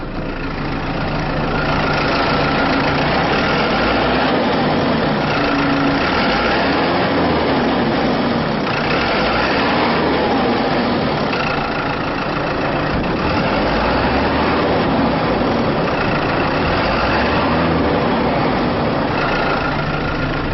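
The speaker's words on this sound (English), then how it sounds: "It is a turbo diesel, so I'll just give it a rev." A loud turbo diesel engine of a 2012 Toyota Coaster bus runs close by, rumbling steadily with gentle swells in pitch and intensity as it is revved.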